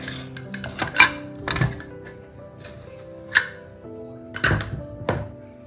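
A pressure cooker of palak pappu, spinach and lentils, being opened after three whistles: a few sharp metallic clanks and clinks of the lid and vessel, close by, separated by quieter pauses.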